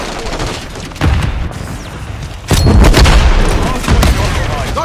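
Stun grenades going off in a military shooter video game, sharp broadband blasts at about one and two and a half seconds followed by sustained rumbling gunfire-like noise, loud and close with radio-style callouts around.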